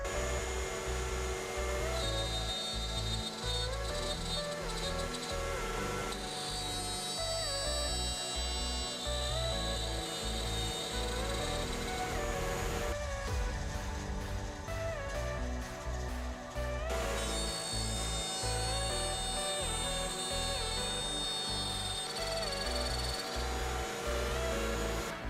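A wood router running steadily against a router fence during a media cabinet build, a loud continuous motor whine with shifting cutting tones throughout, no talking.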